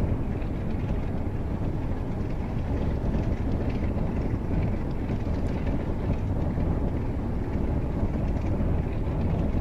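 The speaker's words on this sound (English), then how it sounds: "We're going to leave the right engine mixture setting set to full rich while we start up the left engine." Left engine of a Douglas DC-3 starting up in a flight simulator, a dense continuous rumbling drone that stays loud and steady throughout.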